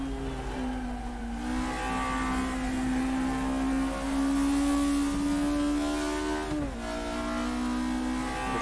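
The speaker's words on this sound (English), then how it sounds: "the natural aspirated noises through the engine sound awesome." Naturally aspirated touring car engine in RaceRoom Racing Experience revving hard and steady at high RPM, a loud continuous harmonic drone that briefly dips at a gear change, then climbs again, with no talking.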